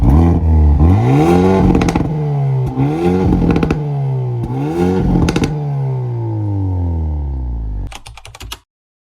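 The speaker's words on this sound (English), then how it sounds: "And dual exhaust. That sounds pretty freaking good." A 2025 Hyundai Elantra N, turbocharged four-cylinder with about 300 horsepower, roars through its dual exhaust in three rising revs with crackles between them, then a long falling note and a final burst of pops, loud and close.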